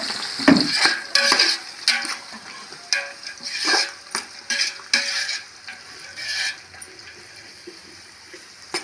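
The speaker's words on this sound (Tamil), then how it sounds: "இங்கே வெங்காயம் நல்லா வதங்கட்டும் பொன்னிறம் வரைக்கும் வதங்கணுமே" Sliced large onions being stirred and sautéed in a pan over an outdoor stove toward golden brown, with irregular sizzling and scraping stir strokes, close and moderately loud, no talking.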